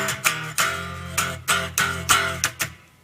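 Electric guitar riff from a song, a choppy run of about nine chord stabs in syncopated rhythm with some muted, clipped hits, played close and loud with no talking.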